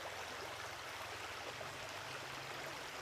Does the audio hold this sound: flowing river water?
yes